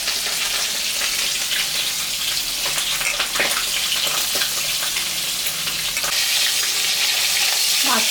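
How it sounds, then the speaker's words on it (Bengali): Magur fish sizzling as it fries in mustard oil in a kadai: a close, continuous crackling hiss with a few brief scraping stirs and no voices. "মাছটা ভাজা হচ্ছে"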